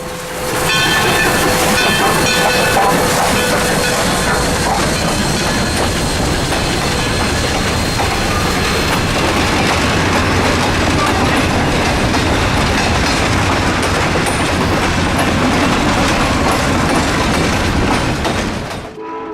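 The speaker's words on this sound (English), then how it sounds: "we figured why not stop and watch the train pass" GSMR 1702, a Great Smoky Mountains Railroad train, rolls past near Whittier in the Smoky Mountains, a loud, close, continuous roar with rhythmic wheel clatter that holds steady for the whole stretch and fades slightly at the end.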